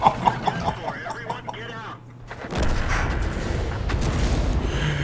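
A tank cannon shot fired on the move in a tank video game, a sharp heavy boom followed by a sustained rumbling roar, loud and close, after excited talk.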